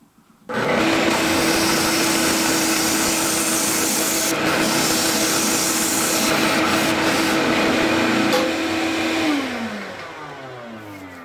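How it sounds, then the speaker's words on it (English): A Rikon oscillating sander whirs steadily alongside a shop vacuum's continuous drone for several seconds, then winds down near the end. "I'm going to turn the machine on and then hit the shop vac, and I'm going to do some sanding"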